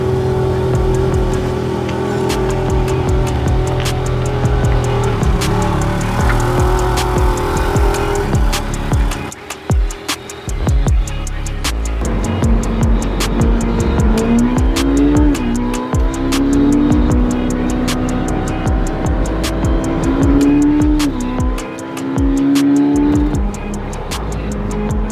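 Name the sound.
car being driven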